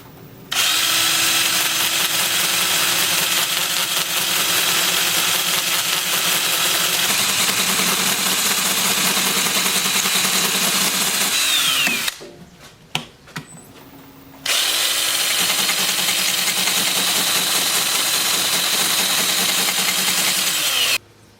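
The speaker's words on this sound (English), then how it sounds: "We'll try sanding while it's spinning." A spinning ironwood goblet on a woodturning lathe is sanded with a Sandoflex sander, giving a loud, steady broadband whir and rasp that runs continuously, cuts out briefly for a couple of seconds near the middle, then resumes just as strongly.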